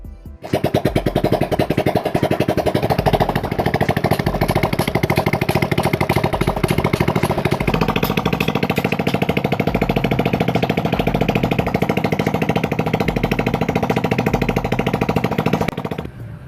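A Yamaha Mio scooter engine, previously smoking white and seizing, idles close by with a steady, rapid chugging rhythm, starting abruptly and running evenly before cutting off at the end.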